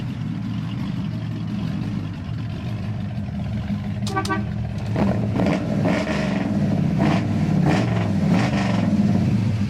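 A 1961 Chevrolet Bel Air with glasspack exhaust idles with a deep, rumbling exhaust note, then revs up loudly several times with a throaty, burbling roar.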